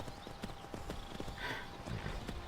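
Horse hooves clip-clopping at a steady walking rhythm in the video game Skyrim, close and moderately loud over a constant ambient background, with a horse briefly whinnying partway through.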